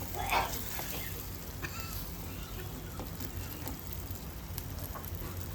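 Mashed ridge gourd is stir-fried in a pan, giving a soft, continuous sizzle with a few light stirring scrapes near the start.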